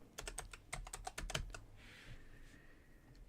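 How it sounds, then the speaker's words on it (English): Quick bursts of keystrokes on a computer keyboard, a rapid run of about a dozen crisp taps that stops after a second and a half, followed by quiet room tone. "I'm going to go here and type ground."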